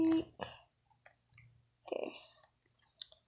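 Typing on a keyboard: a few sparse, quiet clicks spread out over a few seconds, with soft speech in between.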